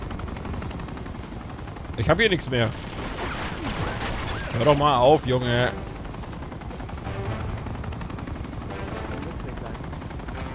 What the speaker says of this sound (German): das ist ein Kampfhubschrauber